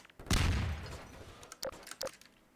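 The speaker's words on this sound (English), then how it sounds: "Oh, why did I throw a grenade?" A grenade goes off in Garry's Mod: a loud, broad blast with a low rumbling tail, followed by two sharper, fainter pops a second or so later.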